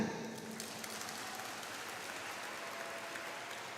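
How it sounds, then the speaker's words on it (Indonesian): Applause from an audience at a religious school gathering, a dense steady patter of many hands that starts at full strength and holds evenly throughout, with no voices over it. "Tepuk tangan."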